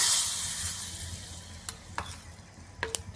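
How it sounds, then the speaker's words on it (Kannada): Hot ghee tempering with cumin and asafoetida is poured into a spinach palya, a bright sizzle that bursts up at first and fades, followed by a few sharp stirring clicks. "ಬಿಸಿ ಇದ್ದಂತೆ ಒಗ್ಗರಣೆನ ತವೆಗೆ ಹಾಕೋಣ."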